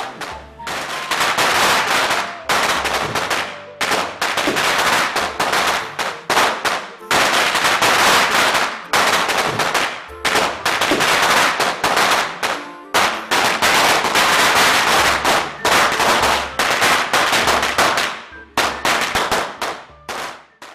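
Strings of firecrackers set off during Chinese New Year crackle in dense, loud rapid bursts through about twenty seconds, with brief pauses between volleys and no talking.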